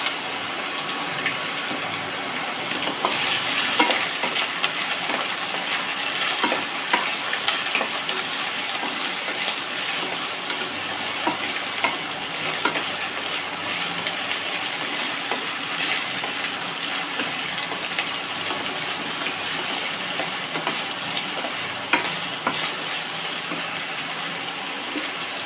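Garlic, black cumin and bottle gourd peel frying in a pan, a steady, dense hiss and crackle running unbroken at moderate loudness throughout, with no talk.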